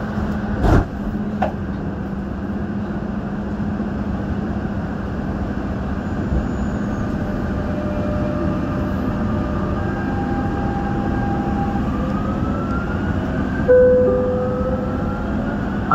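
A Dubai Metro Green Line train runs steadily with a continuous low rumble and rolling hum, rising motor whines drifting in pitch, a couple of sharp clicks early and a brief swell near the end.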